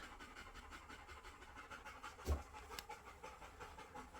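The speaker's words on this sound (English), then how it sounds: "He's puffing and panting in the background." A dog pants and puffs after exercise, a faint rapid rhythmic breathing pattern repeating steadily in a quiet room, with one louder bump partway through.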